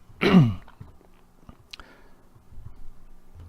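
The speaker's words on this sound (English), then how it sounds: "Had to clear my throat there." One short, gruff throat clearing up close, followed by faint clicks and quiet background noise.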